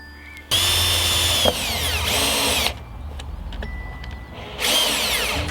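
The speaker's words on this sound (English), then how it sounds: "I can just put a little self-tapping screw through the steel band itself just to lock it in" A drill drives self-tapping screws through the steel band of a rubber-lined pipe clip on a polytunnel pole, giving loud, close bursts of whining motor separated by short pauses.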